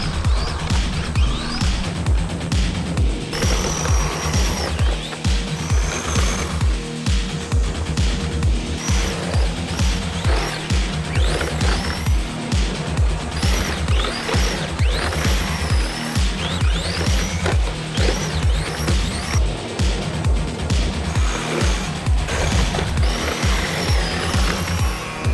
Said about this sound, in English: So there we go, the Hoonicorn, hooning around straight out of the box.